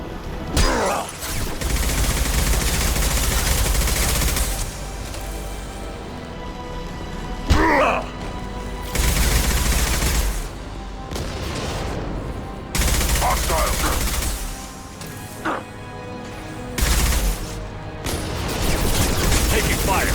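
Sustained automatic gunfire in the video game Mass Effect 2, loud dense bursts that stop and start in long stretches, with brief grunts between volleys.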